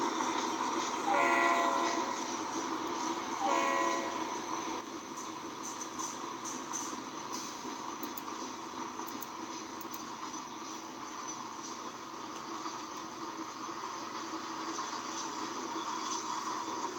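SD45 diesel locomotives struggle on a steep climb in the Trainz simulator, a steady rumbling engine drone with a couple of short horn blasts early on, moderately distant.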